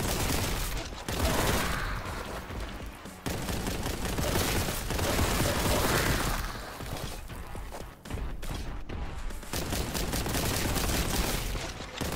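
Bolt gun firing in the Warhammer 40K: Boltgun video game, loud rapid bursts of heavy gunfire hammering almost without pause, with brief gaps between volleys and mechanical clatter mixed in.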